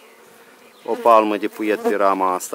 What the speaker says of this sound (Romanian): albinele zboară foarte bine